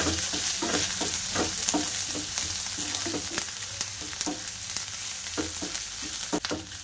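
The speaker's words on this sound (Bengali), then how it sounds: "এবার আমি ওর মধ্যে 1 চামচ আদা বাটা দিয়ে দেব, দিয়ে একটু তেলের মধ্যে নাড়াচাড়া করে নেব" Ginger paste sizzles steadily in hot oil while a spoon scrapes and stirs it in regular strokes, preparing the base for a chicken puli snack, with no talking.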